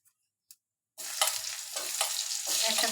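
Chopped onion drops into hot oil with cumin seeds for a prawn and Malabar spinach malai curry. The oil bursts into a loud, close sizzle after two faint taps and keeps crackling while it is stirred.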